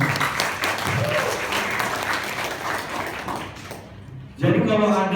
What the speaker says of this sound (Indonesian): Tepuk tangan untuk kakak-kakak.